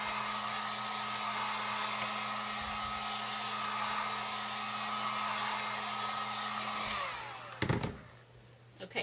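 A hair dryer runs steadily and close up while drying a fall pumpkin shelf sitter craft piece, a constant whooshing hum that stops near the end, followed by a few handling clicks.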